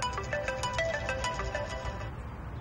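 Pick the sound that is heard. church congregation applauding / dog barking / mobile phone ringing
mobile phone ringing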